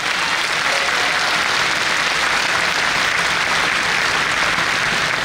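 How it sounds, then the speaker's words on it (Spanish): A church audience at a Catholic priest's family talk claps steadily and densely throughout, a full sustained round of applause with no speech over it. "Estos aplausos son para el Señor."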